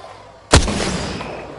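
One loud, sharp gunshot in a PS4 video game, fired at a cargo bot, followed by a rumbling decay that trails off over about a second.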